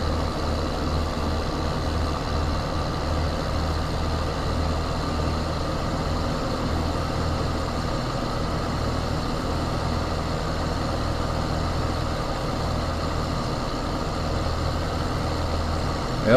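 A tractor engine in the Farming Simulator game drones steadily while heading out to plow a huge field, a constant loud low rumble with no breaks and no voices.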